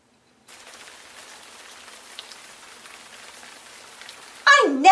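Rain falls as a storybook sound effect, a faint steady patter and hiss that starts after a moment of silence, followed by a louder burst of sound at the end.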